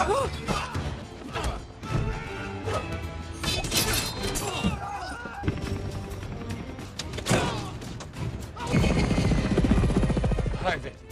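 Helicopter rotor beating through a busy action scene on a ship, heard amid crashes, thuds and smashing impacts, fairly faint and mixed with other noise throughout.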